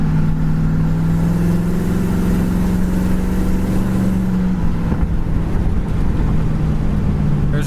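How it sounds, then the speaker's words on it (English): A 1969 Ford Mustang Mach 1 exhaust rumbling steadily while cruising down the road, a loud continuous low drone that shifts pitch midway as the engine note changes, with road and wind noise around it. "the exhaust has got a nice sound too when you're going down the road"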